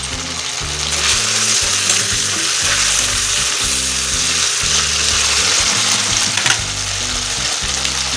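Ginger paste and chopped tomato fry in a pan for a Bengali cabbage kofta curry, with a continuous close sizzle and a rhythmic, repeated scraping of the spatula along the pan. There is no talk.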